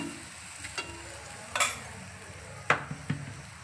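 A layered chapati cooking with a little oil on a hot pan, giving a soft, steady sizzle punctuated by a few sharp clinks and scrapes of a utensil against the pan.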